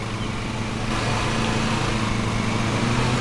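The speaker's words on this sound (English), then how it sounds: "this is just like a real lawnmower, man" A lawn mower engine in the video game Lawn Mowing Simulator runs with a steady, loud drone that rises slightly after the first second.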